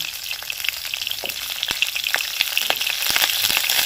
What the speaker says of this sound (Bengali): এবার আমি ফুলকপিটা দিয়ে দেবো ফুলকপিটা ফাটে আবার বিশাল ফাটে